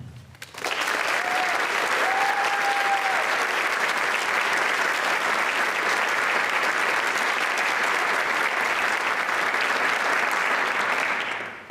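An audience at an Honors Day award ceremony applauds the winners in a long, steady burst of clapping that fills the hall for about eleven seconds before tapering off.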